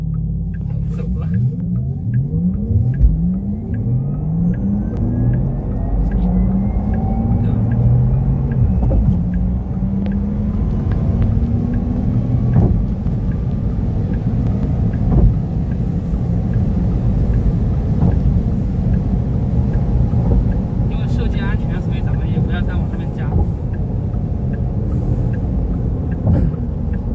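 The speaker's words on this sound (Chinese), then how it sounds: "这就是咱们车辆的一个整体的一个加速表现。" Porsche Taycan electric sports car pulling away hard from a standstill, a loud continuous low rumble with rising whine sweeping upward as it gains speed, steady and close for the full length.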